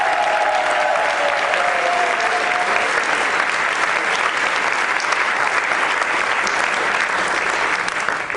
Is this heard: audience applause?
yes